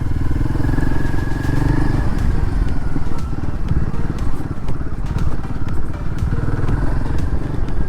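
A Royal Enfield Guerrilla 450 motorcycle rides an off-road grapevine trail, its engine droning loud and steady throughout with rattles, clatter and bumps from the rough ground.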